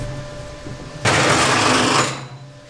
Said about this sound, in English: Get hole sawing.